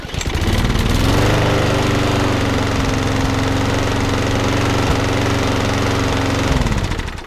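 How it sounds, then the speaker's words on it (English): A Briggs and Stratton lawnmower engine runs steadily and loud for several seconds, a droning mid-low hum with rapid firing pulses, starting up and cutting off near the end. "Okay, that runs pretty well. It was very smoky to begin with"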